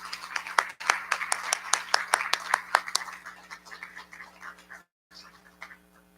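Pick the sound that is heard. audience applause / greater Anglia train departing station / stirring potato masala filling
audience applause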